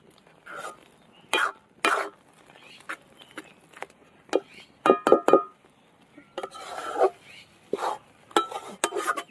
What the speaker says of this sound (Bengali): ধার থেকে ভালো করে টেনে টেনে একদম নিয়ে আসতে হবে।